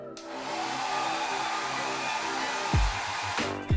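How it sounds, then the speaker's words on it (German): A hair dryer blows hair in a steady, close, loud whoosh, with a couple of brief knocks near the end and no talk. "Mama, föhnst du meine Haare zuerst?"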